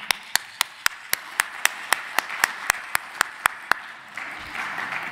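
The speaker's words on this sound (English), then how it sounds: "So first of all, please, a round of applause for Adam, our sax player." Audience applause for a saxophone player at a technical conference talk, heard as a slow, evenly spaced series of about fourteen crisp, distinct hand claps, followed by a brief rise of diffuse room noise at the end.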